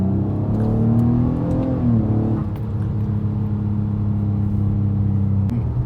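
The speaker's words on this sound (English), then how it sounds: "Now I do have an exhaust, so let's see if you can hear it." A 2009 Nissan Maxima with sport and tech package and an aftermarket exhaust accelerates, its engine note rising steadily through the gears with a drop at a shift, heard from inside the cabin with no talking.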